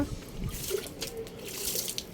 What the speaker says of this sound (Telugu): ముందైతే వాటర్తో ఇలా చల్లేసుకోవాలి మొత్తం కూడా మొక్క